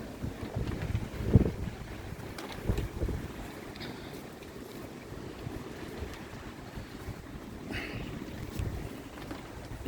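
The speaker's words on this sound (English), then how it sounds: "The wind's very strong." Strong wind blows beside a garden koi pond, a fairly quiet steady rushing with gentle gusts and light rustling, a little louder in the opening seconds, and no talking.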